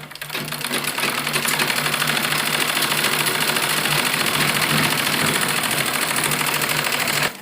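Sewing machine stitching the seam of a palazzo pant runs in a steady, fast whirring hum with rapid needle ticking, close and continuous for several seconds.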